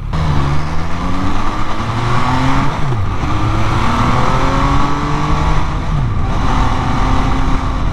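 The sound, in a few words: used 600cc motorcycle accelerating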